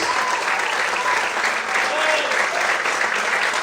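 A church congregation applauds during a sermon, an even, continuous roar of many hands clapping together, loud and close throughout with no talk on top.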